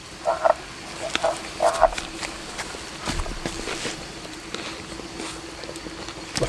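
Frogs croak at a campsite in short rhythmic bursts, fairly faint against a dull outdoor background, with scattered knocks and rustles in between.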